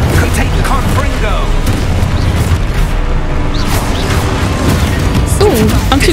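In the Hogwarts Legacy video game, a Confringo blasting spell explodes into loud, dense, rumbling booms with crackling bursts, over constant game noise and a talking voice.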